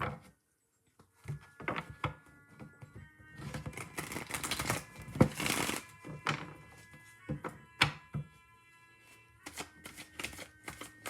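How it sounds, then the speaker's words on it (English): Tarot deck being shuffled and cards pulled for a reading, with irregular riffles, soft slaps and card snaps close to the mic and short quiet pauses between bursts, and no voice. "I'm going to pull a few cards from the tarot."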